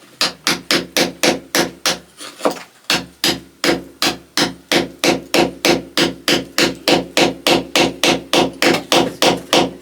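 Steady, rhythmic hammer blows strike a steel chisel fitted with a hand protector while old stone shed walls are demolished, roughly three sharp impacts a second, loud and close, with a brief pause near the start.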